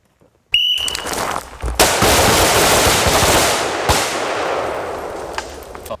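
Rapid gunfire erupts after a brief beep and rolls on as a dense, loud, echoing barrage on a shooting range during a threat engagement drill, with reverberation lingering through the clip.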